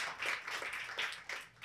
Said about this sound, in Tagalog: Sige, malakas ang palakpak para sa Panginoon.